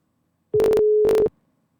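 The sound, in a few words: telephone dialing a number, busy signal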